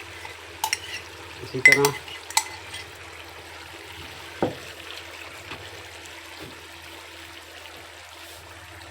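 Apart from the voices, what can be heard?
ground onion and cashew-almond paste added to frying chicken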